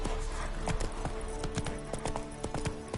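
A ridden horse trots with rapid, evenly spaced hoof clip-clops, close and moderately loud throughout.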